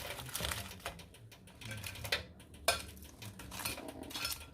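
Plates and cutlery clink and clatter nearby as dishes are gathered and put away at a home seafood grilling meal with prawns and squid, a run of irregular knocks with a few sharper clacks and no talk.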